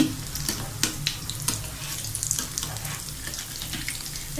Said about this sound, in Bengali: আমি এখন সবগুলা একটা একটা করে উল্টে দিচ্ছি।